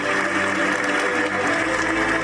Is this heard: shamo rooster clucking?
no